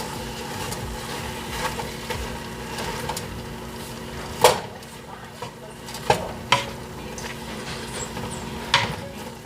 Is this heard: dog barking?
no